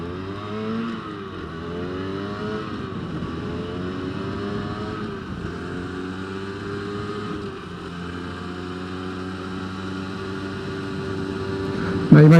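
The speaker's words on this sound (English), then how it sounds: "But this Minarelli engine is very good." A 2022 Rieju MRT 50 LC motorcycle's 50cc Minarelli engine whines and revs up and down through gear changes, droning continuously with a buzzy, rising and falling pitch.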